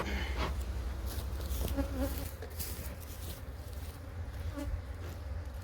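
Honey bees hum in a strong hive box during an inspection, a steady close buzz with individual bees flying past the microphone, loud and without talk.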